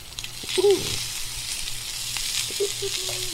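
Shrimp sizzling in a pan on a grill for a Caesar salad, a steady close frying hiss with a brief scrape as a piece is flipped over.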